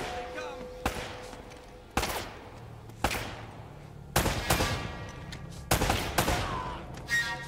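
Gunfire in Uncharted: Drake's Fortune, a series of sharp, loud single shots spaced about a second apart with a few closer clusters, with a voice occasionally talking between them.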